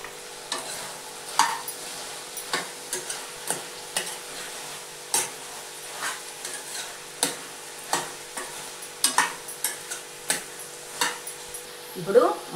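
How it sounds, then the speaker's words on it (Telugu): Okra frying in oil with turmeric, stirred in a pan: regular, distinct scraping and tapping strokes of a spoon about once a second over a faint, low sizzle. "ఇప్పుడు ఇది నూనెలో ఫ్రై అయ్యే లోపల"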